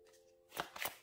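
Tarot cards shuffled briefly by hand, two or three quick close riffling bursts after a short quiet pause with a faint steady tone underneath.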